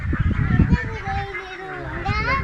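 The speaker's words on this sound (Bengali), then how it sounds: "ওই হাঁসগুলো যাইতেছে দিক দিয়া।" Domestic ducks on a farm quack in a brief burst of honking calls close by, with children's voices mixed in underneath.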